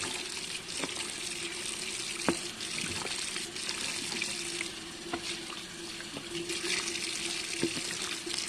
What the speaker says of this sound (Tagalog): I'm busy washing lots of cookware.